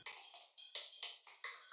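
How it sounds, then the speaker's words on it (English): A phased drum break layer, treated with chorus and reverb, plays as bright swooshing hits in a steady rhythm from a drum and bass track, each hit decaying into a washy, sweeping tail, fairly quiet with no talking. "It's got a weird like phasey break layer."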